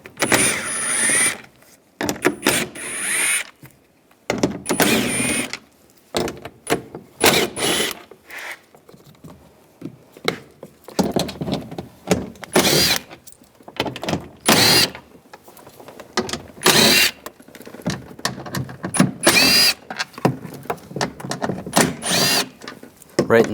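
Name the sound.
power tool removing door bolts with a 10mm socket, Ram 1500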